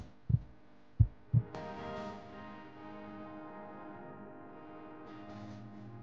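A heartbeat sound effect in an Indonesian TV drama: three loud, deep thumps in quick succession, followed by a low sustained musical drone with no talking.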